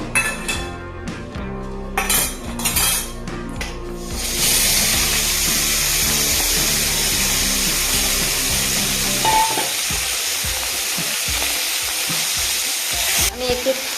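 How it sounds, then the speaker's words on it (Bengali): Chanda fish sizzles and spits in hot mustard oil in a wok, following a few clinks; after a short handling the frying settles into a loud, steady hiss that lasts to the end. "মাছটা এখন ভেজে নিব আমি"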